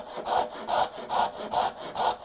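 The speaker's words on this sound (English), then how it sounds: "I'm just cutting the line I can see from corner to corner." Hand saw cutting a dovetail joint in wood, working at an angle from corner to corner: five steady, evenly spaced rasping strokes, close and clear with no talk.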